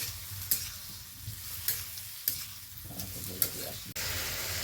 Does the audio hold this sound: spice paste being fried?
yes